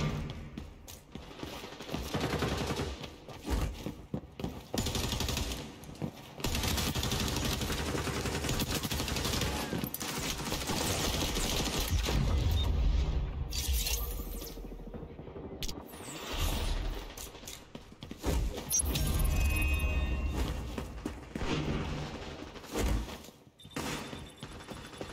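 Sustained exchanges of gunfire in the shooter game XDefiant, with repeated bursts and clattering weapon mechanisms, loud and close, broken by brief lulls over about twenty-five seconds.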